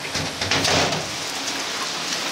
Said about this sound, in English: We got a really nice thunderstorm in the making. Actually, we need some rain, but no hail.